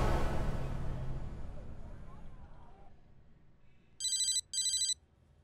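Two short bursts of an electronic telephone ring sound near the end, clear and moderately loud. They follow a fading rumble of background noise.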